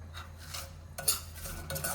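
Dry fruits such as cashews and almonds being stirred into a Gujarati sooji sheera in a pan, with repeated metal spoon scrapes and clinks against the vessel in a steady rhythm, close and moderately loud, with no talking.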